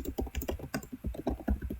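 Typing on a computer keyboard with an English layout, a steady run of quick, close key clicks and taps at an uneven pace, with no voices.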